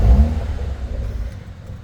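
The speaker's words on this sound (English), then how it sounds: "So that's how you remote engine start the vehicle, and I love that little grumble there." A 2026 BMW X1 M35i fires up from cold by remote start, a loud close burst of engine grumble at the start settling into a lower, steady idle rumble, with no voices.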